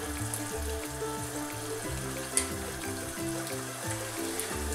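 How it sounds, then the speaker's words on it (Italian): Water pours and splashes steadily through a colander in a home kitchen, draining off part of the cooking water from a tomato sauce. A continuous, moderately loud trickle with one brief clink partway through. "andiamo a filtrare una parte dell'acqua."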